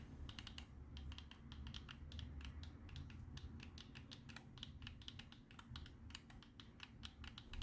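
Clicky switches on a BigBig Won Rainbow 2 Pro controller's D-pad and buttons, pressed in a quick, irregular run of small, close, faint clicks with no talking.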